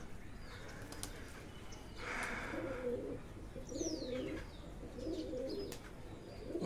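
A favourite pigeon coos in a low, repeated rhythm, several soft bubbling phrases close by, with faint chirps and wing noise in the background.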